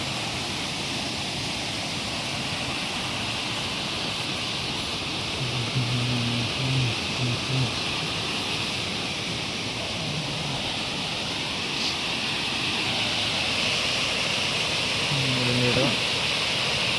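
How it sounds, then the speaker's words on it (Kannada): Kaigal Falls pours down in a steady, dense rushing roar that never lets up, with brief murmurs of voices faintly underneath. "ಹೆಂಗೆ ಬೀಳ್ತೈತೆ ನೀರು."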